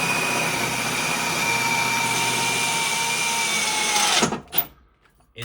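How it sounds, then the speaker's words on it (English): A power drill whines steadily while boring holes for an ATV snow plow mount, loud and close for about four seconds before cutting off abruptly, with no talk over it. "And now, he's just going to drill holes."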